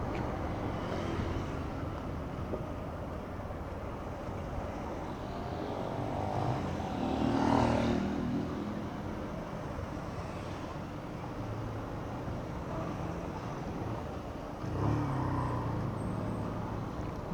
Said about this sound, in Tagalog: Ayan na ang traffic.